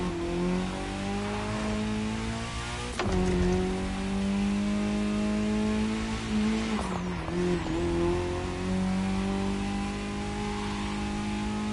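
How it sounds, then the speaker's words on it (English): A Ford Puma WRC rally car in Red Bull livery, driven in the racing game The Crew Motorfest, holds a loud, steady engine drone with rising and falling revs, a sharp gear-change dip near the start and another revving shift later, with no talk. "We're driving a Ford Puma WRC Red Bull style vehicle, ready to conquer every terrain, every surface, every race"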